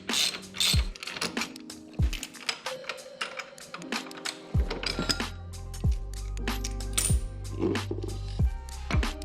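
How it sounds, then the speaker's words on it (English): Ratchet clicks in quick bursts while Torx bolts are backed out of the foot controls on a Harley with a 131ci engine, with close metallic clinks and tool taps between the runs of ratcheting. "we're going to go ahead and take the bolts for the foot controls off. These are Torx bits"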